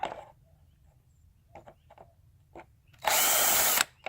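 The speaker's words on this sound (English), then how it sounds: "So I'm going to pull these 4 screws out real quick." A power drill loud and close backing screws out of the bumper of a wrecked 2011 Hyundai Genesis Coupe 2.0 Turbo, one steady burst of under a second following a few quiet clicks and handling noises.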